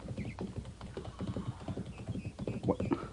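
Horse hooves clip-clopping as a rider returns in an old radio drama, a quiet irregular patter of hoofbeats mixed with low voices talking.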